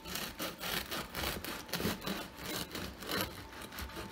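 A knife saws through a crusty loaf of artisan bread, giving a steady, close rasping crackle in repeated back-and-forth strokes with no voices.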